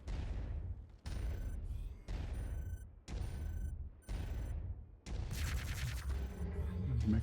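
Heavy weapon fire from a mech in the MechWarrior 5 video game, five evenly spaced booming shots about a second apart, each with a long decaying tail, followed by a harsher burst of rapid fire.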